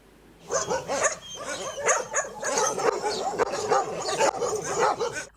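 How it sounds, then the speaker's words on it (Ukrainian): A three-legged dog at an animal shelter barks and yips repeatedly in quick bursts, close and loud, with some whimpering between barks and faint voices in the background. "Цю собаку звати Галина, і вона приїхала з харківського напрямку"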